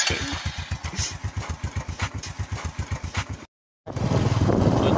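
A motorcycle engine thumps in a steady rapid pulse as the bike rides along a forest track on the way to an ancient temple, loud and close, cutting out briefly near the end before the engine noise returns.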